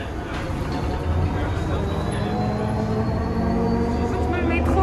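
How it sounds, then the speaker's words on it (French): A Montreal metro train rides toward Laval with a constant loud rumble and rolling rail noise filling the whole stretch, while voices murmur faintly in the carriage. "Donc je vais prendre le métro"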